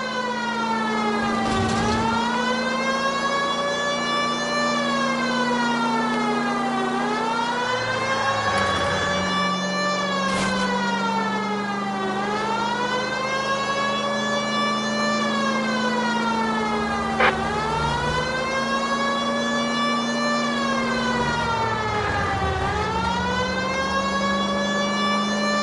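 A police car siren in the video game L.A. Noire wails loud and close, rising and falling in long repeated sweeps over a steady engine drone, with no talking.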